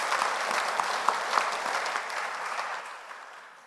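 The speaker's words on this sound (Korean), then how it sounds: "우리 감사와 또 격려의 박수 해드리십시다." A church congregation claps together in a burst of applause that starts full and gradually thins out and fades over a few seconds.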